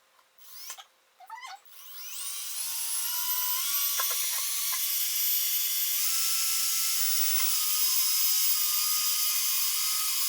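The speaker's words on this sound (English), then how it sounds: "we've got our patch on, and now we're ready to drill the hole" A hand drill bores a peg hole through a patched violin peg box, a steady high whirring whine that holds evenly for about eight seconds after a few brief knocks and handling sounds at the start.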